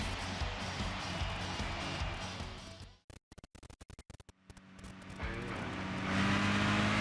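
Race cars in Gran Turismo 6 against an RX-7, Focus and Civic, engine roar that cuts into choppy gaps midway, then resumes with a rising engine drone.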